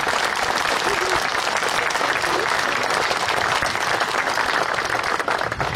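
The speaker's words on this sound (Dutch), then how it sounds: "Ik wil u wel vragen op een applaus voor Voerendaal" An audience at the opening of a Dutch village festival applauds steadily, a dense, continuous wash of many hands clapping at close range for the whole stretch.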